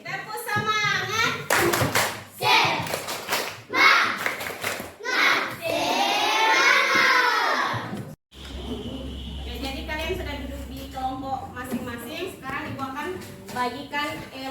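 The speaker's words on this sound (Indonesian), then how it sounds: "Oke, tepuk semangat." A classroom group of children performs a rhythmic spirit clap, loud bursts of patterned clapping mixed with kids' voices and chanting, followed by a teacher speaking.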